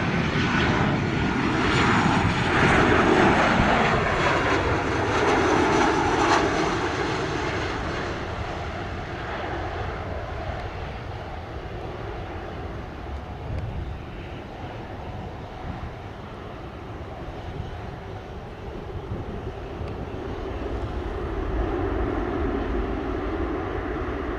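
A Southwest Boeing 737 lands at Sangster International Airport in Montego Bay, its jet engines a broad, loud roar that swells early, eases through the middle and rises again near the end.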